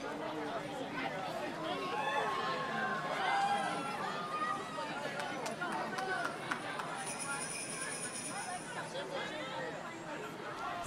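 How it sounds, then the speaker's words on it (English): A crowd at the Baraboo Christmas Light Parade, a dense, moderately distant babble of voices and cheers with scattered shouts and whistles, steady throughout with people talking among it. "And the crowd is cheering. They're going wild."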